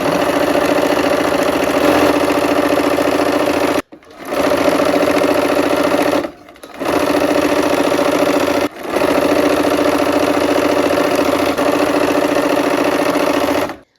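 Electric sewing machine stitching a quilt block with a quarter-inch seam and the needle kept down, a loud, steady mechanical whir in three long runs broken by short pauses.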